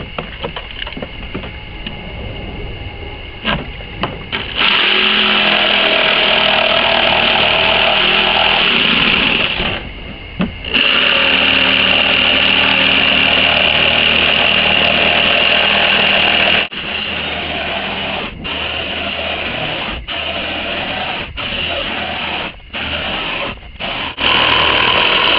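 A power tool grinds and whines loudly and steadily through most of the stretch, cutting out in a few short gaps before starting up again.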